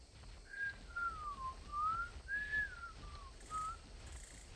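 Whistling in the video game ARK: a melodic tune of several rising and falling notes with short gaps, clear and moderately loud over a low background hum.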